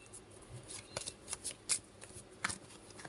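A tarot deck being shuffled by hand: soft, papery riffles and sharp card snaps come in irregular bursts over about three seconds, fairly close and quiet, with no talking.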